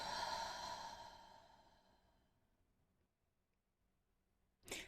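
A person exhales deeply during a guided breathing exercise: one long, breathy outward breath that is loud at first and fades away over about two seconds. Near silence follows, then a brief breathy burst at the end.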